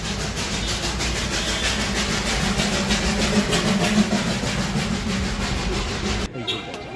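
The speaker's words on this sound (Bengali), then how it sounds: "রাস্তায় যেতে যেতে দেখা হয়ে গেল সেই টয় ট্রেনের সাথে।" Darjeeling toy train passing along a mountain road, a loud, steady rhythmic rumble and clatter of wheels close by that cuts off abruptly near the end.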